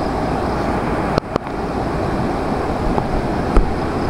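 A suddenly swollen, muddy brown river rushes in a steady broadband roar, with a few brief knocks standing out against the continuous flow.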